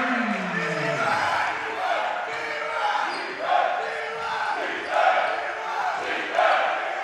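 Crowd noise at a girls' high school basketball game in a gym, rising in loud surges of cheering over steady chatter and court sounds, with an announcer-like voice mixed in.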